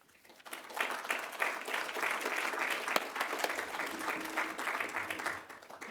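Applause from an audience at a talk on climate change swells in after a quiet moment, then dense clapping continues steadily before tapering off at the end.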